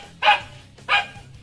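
A dog gives two sharp barks about two-thirds of a second apart, close and clear against a quiet background.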